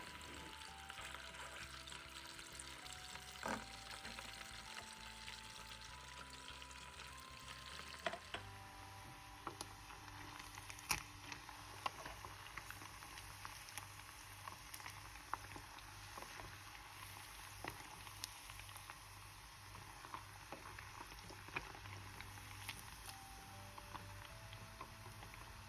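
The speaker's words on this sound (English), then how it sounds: "put our meat onto the when the oil is hot and make the deep fry until the color is as you like" Sun-dried pork deep frying in hot oil gives off a soft, continuous sizzle and bubbling at low volume, steady throughout with faint clicks and no talking.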